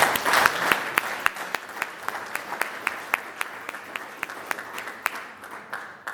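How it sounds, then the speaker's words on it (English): A Rotary club meeting audience gives a round of applause, steady crowd clapping with sharp individual claps standing out, starting strong and then tapering off slightly. "we owe Dan Sims and Steve and John Smitter a round of applause"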